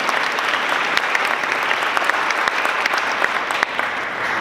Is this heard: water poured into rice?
no